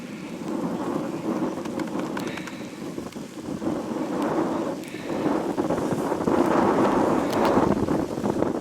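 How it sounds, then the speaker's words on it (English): Heavy rain pours down outdoors on a potato farm, a dense steady hiss of drops on surfaces with thunder rumbling and wind buffeting the microphone, growing louder toward the end. "It's pouring. It's still pouring."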